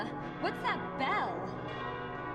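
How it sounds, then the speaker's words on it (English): A bell tolls in a Koudelka video game cutscene, its resonant ring sustained beneath a voice speaking over it, moderately loud and slightly distant. "What's that bell?"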